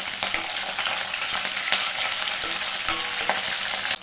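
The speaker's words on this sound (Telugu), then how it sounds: "ఇప్పుడు వీటిని అయితే లైట్గా ఫ్రై చేసుకుందాం." Curry leaves and slit green chillies fry in hot oil with a loud, dense, continuous sizzle and crackle, broken by occasional stirring clatter, up close with no voices.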